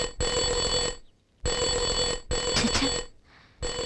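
A telephone rings in repeated bell bursts, three close, loud rings of about a second each separated by short silent gaps.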